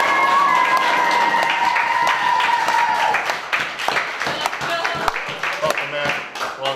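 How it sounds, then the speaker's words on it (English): Live audience applause at a Friday night football preview show as a head football coach is welcomed, a steady wash of clapping and crowd noise that gradually thins out, with a voice speaking over it toward the end. "Let's give a big round of applause"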